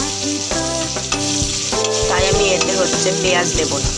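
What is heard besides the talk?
frying carrots and potatoes in a pan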